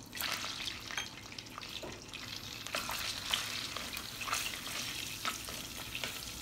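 Green chillies hit hot oil and butter in a pan used for making pav bhaji, sputtering and sizzling with crackling pops over a steady frying hiss, close by.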